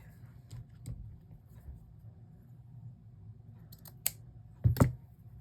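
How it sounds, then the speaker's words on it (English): Scissors snipping through fabric pieces while making a needle book, a few quiet scattered cuts building to a louder double snip near the end, alone without talk. "let's cut them the same size"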